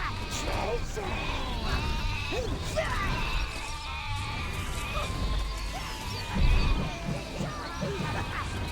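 Repeated sheep bleats sound in the video game Overlord, several short wavering calls over background noise and someone talking, with a thud midway.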